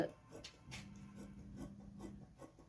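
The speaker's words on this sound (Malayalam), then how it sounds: "ഇനി നമുക്കിതൊന്ന് കട്ട് ചെയ്തെടുക്കാം" Scissors slicing through a cut piece of fabric for a baby's crop top and skirt, a string of soft close rasping snips in a quiet room.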